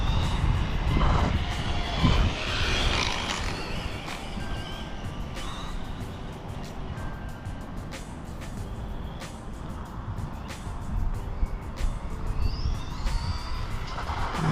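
A Losi Promoto-MX RC motorcycle runs in a steady, continuous engine whine with small shifts in pitch and occasional higher squeals as it drifts and brakes, heard up close without talk.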